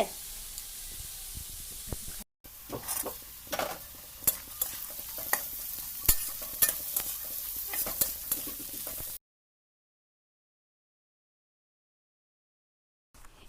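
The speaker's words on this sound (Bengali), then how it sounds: "বনুকে বললাম তুমি মিক্স করো ভাজাটা" A spatula scrapes and clacks repeatedly through beans and carrots sizzling in a pan, irregular stirring strokes close up, then the sound cuts to silence.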